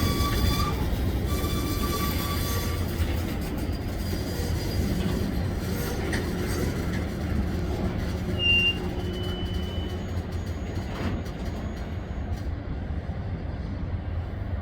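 A Canadian National freight train rolls northbound through Green Bay with a steady low rumble of cars and wheels throughout, with occasional faint squeals over the continuous roll and no talking.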